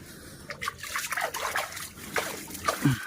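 Urine trickles and splatters onto holy basil leaves outdoors in short uneven spurts, close and fairly faint, with a low thud near the end.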